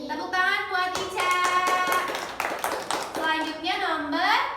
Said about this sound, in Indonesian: Tepuk tangan buat Ica.